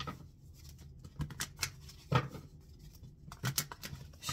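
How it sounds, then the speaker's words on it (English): Tarot cards shuffled by hand in a quiet room, giving a string of soft papery riffles and flicks in short bursts, close and fairly faint, with no talking. "Shuffling through these cards"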